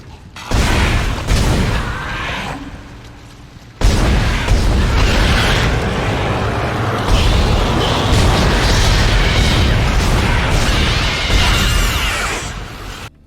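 Plasma cutter shots in Dead Space, loud punchy bursts that merge into a sustained, heavy crackling roar with a brief gap between volleys.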